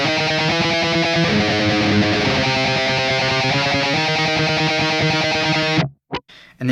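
Distorted electric guitar riff played with fast tremolo picking from a metal song, a dense, loud, continuous buzz of rapid repeated notes shifting pitch, stopping abruptly near the end with brief muted scrapes.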